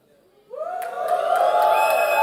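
An audience at a smartphone launch event breaks into cheering after a short quiet moment. Screams and whoops quickly swell into a loud, sustained roar that holds to the end.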